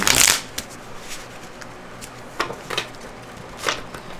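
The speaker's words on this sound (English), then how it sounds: "just going to shuffle these cards one more time" Tarot cards are shuffled close up: a sharp riffle at the start, then scattered soft flicks and slides of cards being handled.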